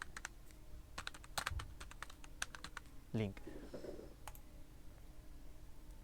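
Quiet computer keyboard typing, with a burst of rapid key clicks followed by sparser single taps and a brief vocal sound midway, close-miked and faint overall.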